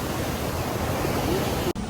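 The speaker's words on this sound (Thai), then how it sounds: "นี่ครับสวยมากทุกคนดูดิ แม่น้ำเยอะมากเลยอะ" Broad, steady rush of flowing river water at a scenic nature area in Sichuan, China, continuous and fairly loud, with a brief break near the end.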